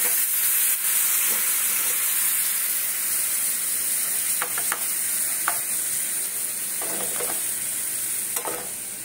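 Sesame seeds frying in hot ghee give a steady bright sizzle and hiss, with a few soft scraping stirs breaking through. The sound is close and continuous, and no one speaks.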